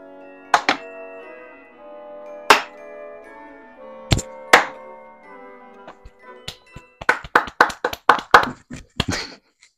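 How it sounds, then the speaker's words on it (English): Hands clapping in a home kitchen during Christmas cookie baking, a few sparse, sharp claps followed by a quicker, irregular run of close claps. "You clap your hands"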